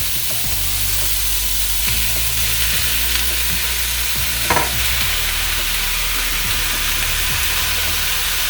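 Pork shoulder frying in a pan for hamonado, a steady loud sizzle with occasional stirring scrapes throughout.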